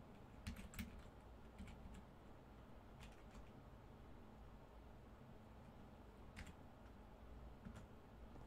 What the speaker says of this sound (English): It's probably because I'm typing in all caps.